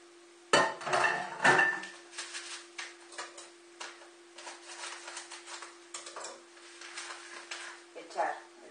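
Chicken wings go into a GM cooking pot with a couple of heavy clunks and clatters at the start. Lighter taps and knocks follow over a faint steady hum.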